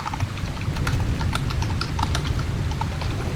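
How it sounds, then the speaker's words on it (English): Rapid typing on a flat, low-profile computer keyboard, a steady stream of light clicky keystrokes over a low background hum, close and moderately loud with no talking. "Awesome, flat ass keyboard."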